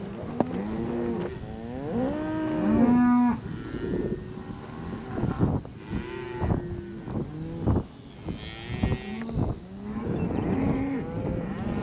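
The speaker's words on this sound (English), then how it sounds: "Cows get curious and they always like to come see what's happening" Cattle on a drive to the mountain pasture moo and low repeatedly, several overlapping calls near and mid-distance, with outdoor background noise between them.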